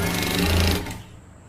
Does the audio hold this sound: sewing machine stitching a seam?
yes